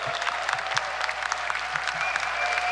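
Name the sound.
audience applause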